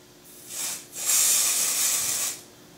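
Hairspray misted onto hair roots in two close bursts, a short hiss followed by a longer steady spray.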